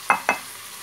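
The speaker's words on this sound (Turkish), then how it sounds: "şöyle bir karıştıralım" A spoon stirs chopped spinach in a pot for soup, making two quick, close, sizzling scrapes about a fifth of a second apart, followed by a quiet simmering hiss.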